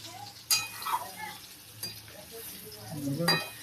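Potatoes drop into a hot pan and fry with a soft sizzle, with sharp clinks of a spoon against the pan and a few scraping stirs close by, and a faint voice in the background.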